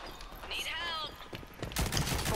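Sniper gunfire in the online shooter Rogue Company, a few sharp shots and bursts cracking out over game noise, with players talking excitedly over the action.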